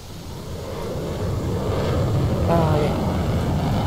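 Concorde jet taking off in a Roblox flight simulator, a broad steady engine roar building gradually in loudness with no other sounds over it.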